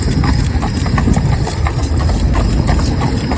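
A stallion cob's hooves clip-clop steadily along a town road, close and fairly loud, with continuous traffic rumble underneath and no talking.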